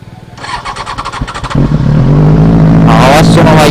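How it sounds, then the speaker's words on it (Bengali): A Benelli 600i motorcycle fitted with an SC Project exhaust cranks over in a quick series of pulses. It then fires up into a loud, close idle and gives a sharp rev, with people talking over it. "দেখি ইঞ্জিন স্টার্ট করি।"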